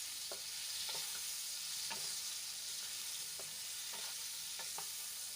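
Chopped chibhda, or snap melon, stirred into hot oil with a chopped chili, making a soft, faint sizzle with repeated light scraping taps of the spoon.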